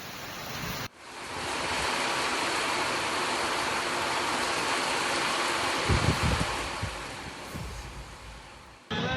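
Heavy rain pours down in Belagavi as a steady, loud, broadband roar that holds without a break for the whole stretch, with no voices. No distinct thunder claps stand out.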